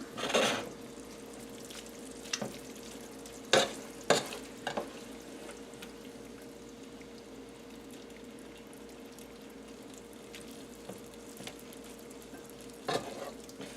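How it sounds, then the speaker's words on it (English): Broccoli rabe with a pinch of salt is stirred in a pan, giving a few sharp scraping knocks spread across a quiet, faintly sizzling background, with long still gaps between them. "And let's just give that a little mix."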